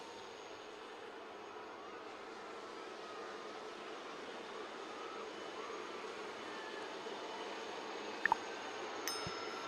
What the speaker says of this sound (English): Look to the skies on your left where you will see the formation of helicopters approaching.